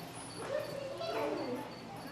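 Puppy whimpering and yipping in short high wavering cries over about two seconds, close by and moderately loud.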